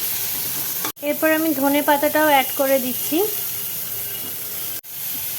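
Broccoli fries in a pan for vegetable Maggi and sizzles in a steady hiss throughout. Someone talks over the frying, and brief stirring knocks come near the start and end.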